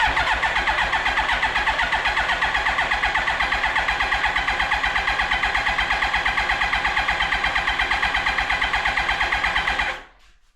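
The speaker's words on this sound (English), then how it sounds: "Turn it on, throttle wide open, and start." A 2003 Yamaha R1 engine cranks over steadily with the throttle held wide open for a compression test, a fast even chugging rhythm that runs loud and unbroken for about ten seconds before stopping abruptly.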